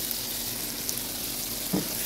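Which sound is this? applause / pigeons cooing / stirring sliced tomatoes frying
stirring sliced tomatoes frying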